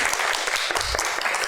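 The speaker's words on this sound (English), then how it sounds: "Let's give her a hand of applause." Audience applause at a Louisiana Women's Health Day 2022 gathering, a dense, continuous roar of many hands clapping together, loud and sustained throughout the short stretch.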